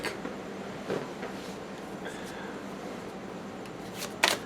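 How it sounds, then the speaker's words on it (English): Tarot cards being shuffled by hand, a soft, dry riffling and papery rustle that runs faint and continuous, close by, ending with a brief sharper flick. "That was an interesting shuffle."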